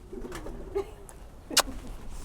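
A pigeon coos softly in a couple of short, low calls, followed by a brief sharp flutter or click, heard close against a quiet background.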